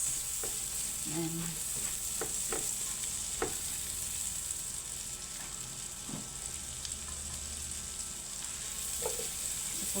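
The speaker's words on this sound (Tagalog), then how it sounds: "Ginisa ko, ayan, gisahin natin siya" A small amount of chopped white onion sautéing in a pan for tuna sisig, giving a steady close sizzling hiss broken by a few light stirring knocks.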